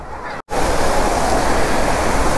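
A steady, loud rush of falling water at the Mashenlodhi waterfalls near Warangal, Telangana, filling the whole stretch apart from one brief dropout near the start.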